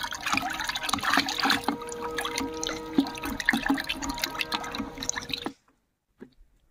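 Liquid organic fertilizer poured into a container of water for a small garden: a continuous splashing, trickling pour with gurgles and drips runs for several seconds, then stops abruptly, leaving near silence with a faint trailing drip.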